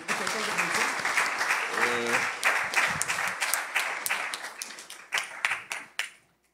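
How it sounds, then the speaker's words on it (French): A church congregation at a wedding breaks into warm applause for the couple; the clapping holds steady with a brief voice, then thins into scattered claps and stops. "On les applaudit."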